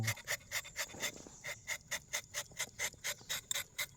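A quick, steady series of sharp scraping taps, about four per second, as a knife scores rubber tree bark, close and faint, with no talking.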